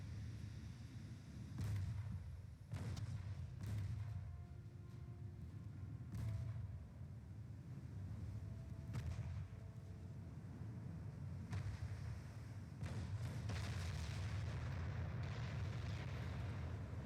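Warship guns firing in the naval battle game Ultimate Admiral Dreadnoughts, several distant booming reports spaced apart over a constant low rumble of background noise.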